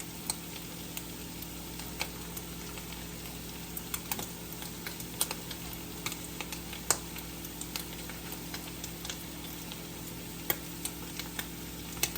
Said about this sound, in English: ground beef is good and brown, so I'm just going to slice these potatoes up in it